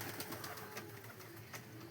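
Pigeons cooing in a backyard coop, soft and somewhat distant beneath a steady, noisy ambient hiss, with a few faint repeated coos across a short stretch.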